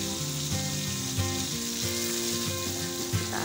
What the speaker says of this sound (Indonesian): kita tumis ya seperti ini, lalu kita masukkan daun bawang yang kecil yang sudah kita iris-iris